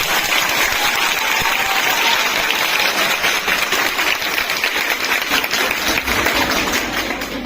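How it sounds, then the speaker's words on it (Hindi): A hall audience at a nursing college lamp lighting ceremony in Bhadohi claps steadily, a dense, continuous patter of hands sustained for several seconds at moderate loudness. "तो एक बार सब इनके लिए छोटी ताली बजाएं।"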